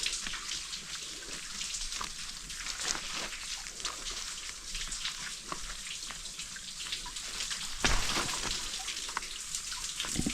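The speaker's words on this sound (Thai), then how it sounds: "มีน้ำไหลลงมานะเพื่อนนะ" Water trickles and splashes down through cracked rock inside a cave on a forest hike, a steady, fairly faint hiss of flow with scattered drips and one louder splash near the end, no talking.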